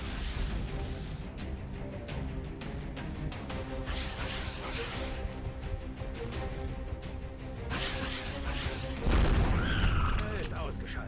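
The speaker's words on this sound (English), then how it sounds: "Enemy suppression fire." Enemy suppression gunfire in the XCOM Long War video game, with continuous rapid bursts and crashing impacts building to a louder boom near the end, while voices talk over the fire.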